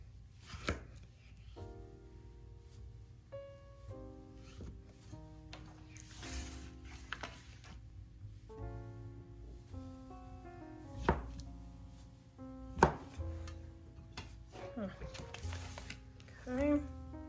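A knife cuts down the center of a no-bake crockpot chocolate Christmas bark with caramel, giving a series of close, sharp cracks and thunks spread across the stretch, with a voice talking intermittently between cuts.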